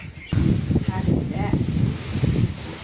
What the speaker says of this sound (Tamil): காற்று அடிக்குது பயங்கரமாக,